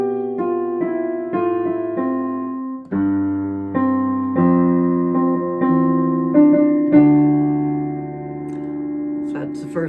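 Beginner piano line starting on middle C and stepping downward, played as a sequence of clear sustained notes with a few low bass tones, each note struck then decaying, steady tempo and no talking.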